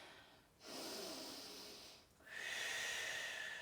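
Two long, deep breaths during a single-leg yoga mobility flow, each a slow, airy inhale or exhale close to the microphone, separated by a brief quiet pause.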